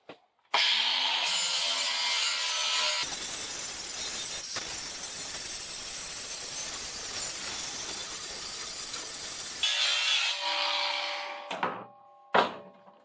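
An older flap wheel spun by a Craftsman 19.2V cordless drill grinds the rusted frame of a 2008 Ford F-150, a loud abrasive roar holding for about nine seconds before the motor winds down with a few short whirs.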